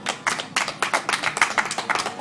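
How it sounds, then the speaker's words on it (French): Crowd at a grappling and MMA sports event applauding, a steady burst of many hands clapping close by with sharp, dense rhythmic claps throughout and no talk. "On peut les applaudir encore"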